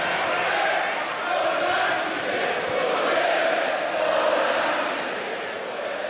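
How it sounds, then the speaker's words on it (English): Football crowd in a stadium chanting in unison for justice for those who died, a large, distant mass of voices rising and falling in slow waves without a break. "For 2 minutes, the crowd chanted for justice for those who died."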